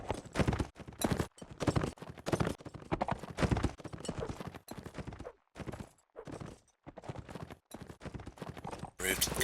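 Horse hooves galloping in a competitive video game match; rapid rhythmic clip-clop hoofbeats in quick bursts with short gaps, fairly faint, mixed with game sound effects, while a commentator talks over them.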